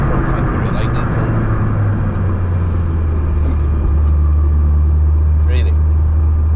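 Wind noise roars at the windshield of a Honda S2000 AP1 on the move, a constant broadband rush over a deep steady engine drone, loud and unbroken throughout.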